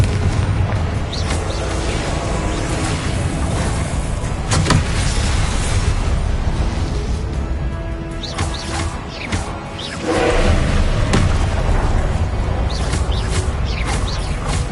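Confringo spell explosions in the Hogwarts Legacy video game: a few sharp, booming blasts land over a steady, dense layer of in-game background sound.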